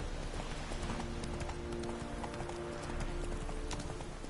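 Horse hooves clip-clopping at a steady rhythmic run in the video game The Witcher 3, continuous and fairly dense under a constant background game soundscape, no talking.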